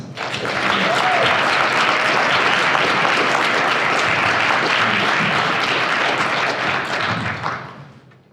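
A large audience breaks into sustained applause to welcome a keynote speaker at a closing conference session; the dense clapping swells quickly, holds steady and loud, then fades out at the end.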